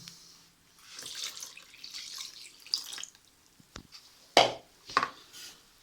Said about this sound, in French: Ensuite, nous allons incorporer l'eau